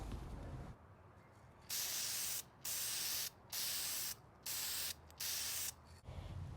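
Five bursts of black metal spray paint hiss steadily onto furniture, each lasting about a second with short pauses between, close to the microphone against a quiet background.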